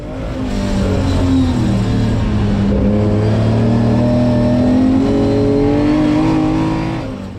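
An Austin Healey 3000 race car engine at full throttle in a circuit race at Snetterton, loud and close from onboard, holding a sustained roar with the pitch rising and falling as it revs through gears.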